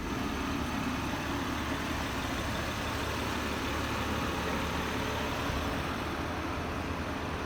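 A 2020 Ram 1500 EcoDiesel V6 idles with the hood closed, a quiet, steady low rumble with no talking.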